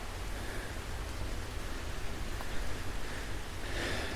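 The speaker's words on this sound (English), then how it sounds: "You can probably hear the rain, but the trees are very thick" Rain falls on thick trees in a wood, a soft, even hiss of drops through the canopy, steady and faint, with no voices.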